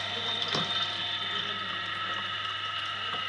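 An electric water pump motor runs with a constant hum and whine while water pours and fills nearby, a steady continuous wash of sound with a brief louder splash early on.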